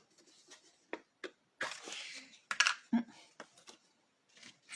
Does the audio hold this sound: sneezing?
yes